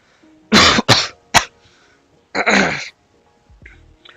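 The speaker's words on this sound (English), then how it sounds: "I got a really bad cough" A man coughs hard several times, three harsh close bursts in quick succession, then a pause, then another longer raspy cough, with quiet background hum between them.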